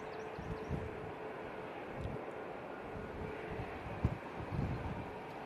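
A Dreamliner airliner comes in to land in gusty wind at Manchester Airport, its engine roar faint and distant under buffeting wind noise, with a few low thumps from gusts hitting the microphone.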